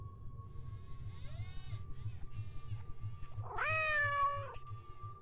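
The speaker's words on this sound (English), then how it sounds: "Who's my favorite robotic cat?" A robotic cat in the Nancy Drew video game Shadow at the Water's Edge gives several synthetic meows, ending in one louder, drawn-out mew, over a low pulsing hum.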